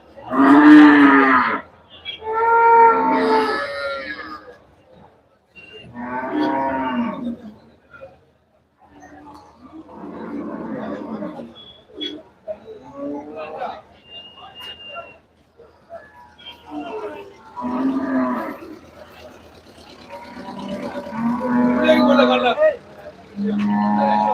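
Pulikulam cattle low at the Melapalayam cattle market in Tirunelveli district, with a series of drawn-out, harmonic moos in separate bursts through the clip, loud and fairly close, with a few short gaps between calls.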